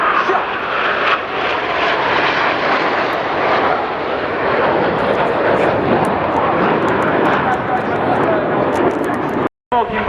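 MB339 jets cross during an air display at RIAT, a loud continuous jet roar filling the sky, with a commentator's voice carrying over it.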